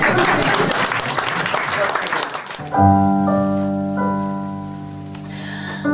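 Audience applause at a French chanson performance, a dense burst of clapping for about three seconds that stops abruptly as sustained, held musical tones take over.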